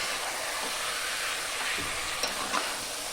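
Mutton pieces are stir-fried in a kadai for a mutton and potato curry, giving a loud, dense, continuous sizzle with a couple of faint spatula scrapes and no voices.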